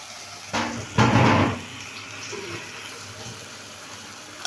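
Cold water splashes from a tap over strained vermicelli in a metal strainer: a short gush, then a longer, louder pour lasting about half a second, followed by quiet kitchen background with faint clinks.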